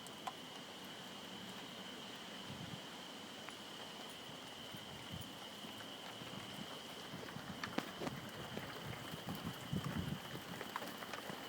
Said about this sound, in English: It's starting to rain here now.